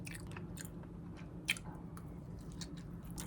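Soft, close chewing and squishing of food during a Korean mukbang meal, with scattered moist bites and one sharper crunch midway, alone with no talk.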